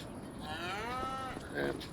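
A cow moos once inside a cow shed on a farm, a long drawn-out call that rises and falls with rich harmonics, fairly close and clear over a low background hum, followed by a shorter second lowing near the end.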